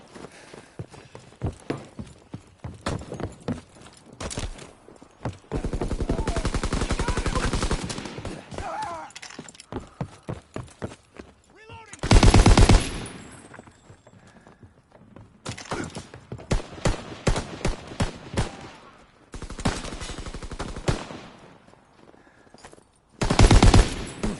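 Bursts of automatic gunfire in a PS4 shooter game, rapid rattling volleys separated by pauses, with a few loud close blasts standing out and faint clattering in between.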